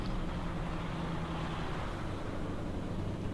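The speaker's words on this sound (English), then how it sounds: "Did I hear an aeroplane there?" Aeroplane flying over in Euro Truck Simulator 2, a broad low rumbling roar that stays steady and fairly loud for the whole stretch, blended with road and engine drone, no talk.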